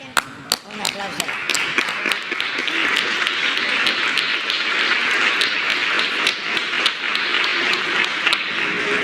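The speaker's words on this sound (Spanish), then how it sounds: "Un aplauso." A crowd applauds at a presidential morning press conference, the clapping opening with a few sharp claps before swelling into steady, moderately loud applause. Voices speak over the clapping.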